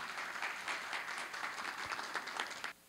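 An audience at a ceremony for sharing employment consulting results for people with disabilities gives a steady round of applause in a hall, which cuts off abruptly near the end.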